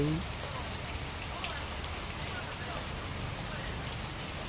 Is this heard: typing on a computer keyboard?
no